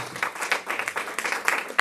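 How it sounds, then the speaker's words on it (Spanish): A church congregation claps in a brief burst of applause, uneven overlapping handclaps close by for under two seconds. "Una ofrenda de aplausos."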